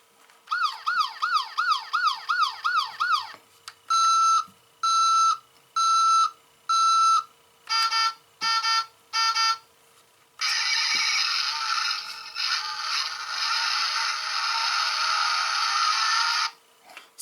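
A 10-inch friction-powered toy crane truck plays its electronic siren effects: a fast warbling wail, then evenly spaced beeping bursts, quicker pulses, and finally a long steady electronic tone, all loud and close with no talking.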